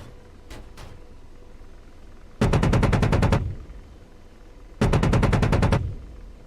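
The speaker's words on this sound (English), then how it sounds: "Shooting at me." Machine-gun fire aimed at the player's Apache helicopter in a video game: two short early shots, then two loud sustained bursts of rapid automatic fire, each about a second long, with no talking.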